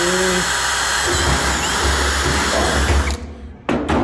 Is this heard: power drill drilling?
yes